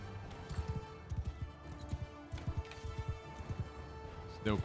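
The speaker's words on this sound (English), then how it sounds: "Horse is running." Horse galloping in the battle game Mount & Blade II Bannerlord: quick rhythmic hoof thuds in irregular bursts, fairly faint, with soft battle noise around.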